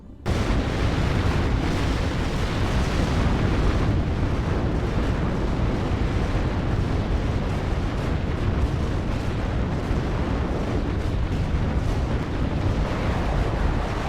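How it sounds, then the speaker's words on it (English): Artillery shells burst in the WARNO war game as a sustained, dense rumble of heavy explosions, loud and continuous for the whole stretch with no talk over it. "Our own artillery coming in here."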